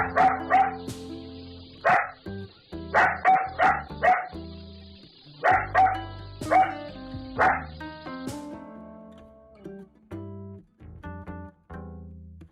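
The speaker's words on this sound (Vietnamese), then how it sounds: "Con chó. Dog, dog." A dog barks in quick bursts and clusters, loud and close, with short gaps between volleys over soft background music.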